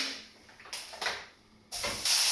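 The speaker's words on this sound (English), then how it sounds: "we're going to start frying the mince off" Sizzling hiss of mince frying in a hot pan, steady at first and swelling into louder, brighter crackling bursts toward the end.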